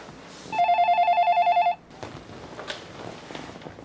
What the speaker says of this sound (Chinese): 我打个电话问一下文良看看